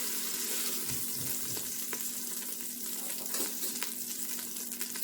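Chopped onions, celery and carrots sweat in a Ninja Foodi pot, giving off a steady close sizzle with a faint hum and a few soft stirring clicks.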